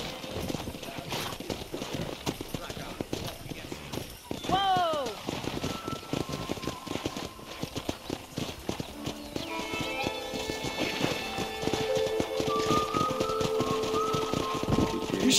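Horse hooves clip-clop in Red Dead Redemption during a horse-wrangling scene, a steady rhythmic trot with a whinny near the middle and game ambience behind, while characters talk over parts of it.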